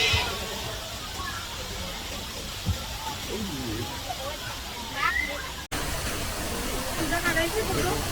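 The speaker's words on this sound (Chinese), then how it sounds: "想当年，这是全世界最高的室内瀑布。" The man-made indoor waterfall at Jurong Bird Park in Singapore, once the world's tallest, gives a constant broad rushing roar, with crowd voices murmuring faintly beneath it.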